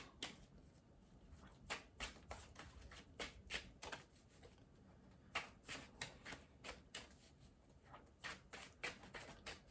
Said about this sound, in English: I pulled that one while I was shuffling.